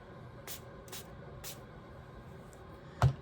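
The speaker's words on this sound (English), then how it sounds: "I am going to spray it. I spray with water" A spray bottle of plain water mists onto a face of makeup in several short, soft hisses about half a second apart, with a sharper final puff close by.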